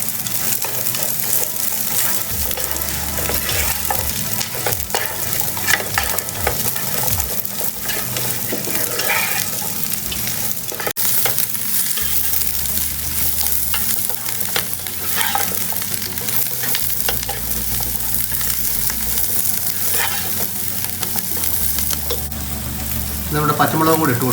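Sliced onions sauté in a pan for restaurant-style chilli chicken, a continuous loud sizzle and frying crackle with repeated stirring scrapes, and a voice talking intermittently over it.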